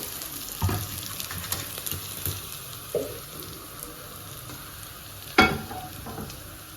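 Onion and two bay leaves frying in hot oil in a pressure cooker, a low steady sizzle broken by a few sharper crackles and stirring knocks, close and alone.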